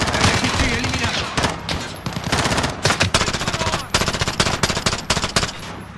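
Rapid machine-gun bursts and single gunshots crack out in a prison-escape firefight in the video game Call of Duty: Modern Warfare, loud and close, with dense rhythmic volleys and some shouted voices mixed in.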